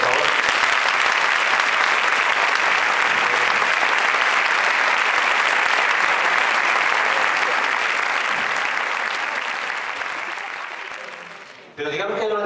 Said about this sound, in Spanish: pediros amablemente que deis un aplauso a mis compañeros